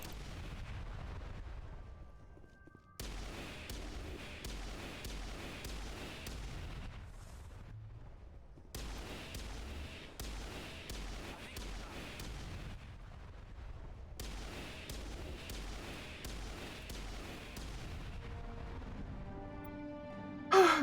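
Repeated bursts of gunfire in Mass Effect Legendary Edition as barriers are shot, dense rapid volleys in several long stretches separated by brief pauses, loud and continuous with no talk.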